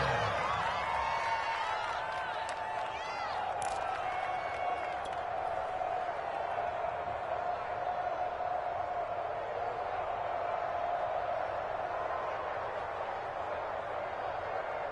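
Steady crowd roar and cheering in a football video game, building ahead of a big third down, sustained and fairly loud throughout with a commentator talking over it.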